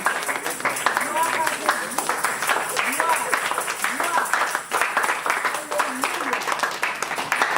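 A church congregation applauds and cheers Jesus during a worship service, steady crowd clapping throughout with voices calling out above it.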